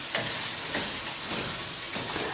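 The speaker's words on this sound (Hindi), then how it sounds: "अब इन मसालों को अच्छी तरह मिक्स कर लें और इसको भी भूनना शुरू कर दें।" Spiced minced meat (keema) frying in a pan gives a constant dense sizzle, with a few soft stirring scrapes.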